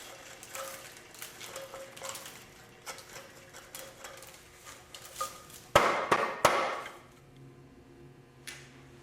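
A mortise in a wooden library table leg is cleaned out: sparse, irregular tapping clicks, then a louder cluster of sharp knocks and scraping, followed by a few faint ticks.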